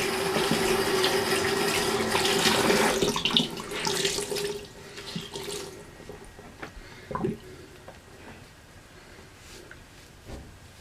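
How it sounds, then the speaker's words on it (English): Tap water runs steadily into a sink for a cold rinse during a wet shave, loud and continuous for several seconds before fading to softer splashes and drips. "Alright, cold water rinse."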